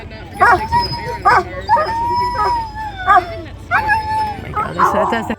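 Sled dogs at a dryland race bark, yip and howl in repeated loud bursts, with whining between them; the pack sounds close and there is general background noise throughout.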